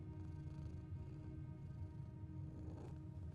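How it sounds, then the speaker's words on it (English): A house cat purring loudly right up close, a steady low rumbling drone that continues evenly without a break, no voices over it. "You purr really loud."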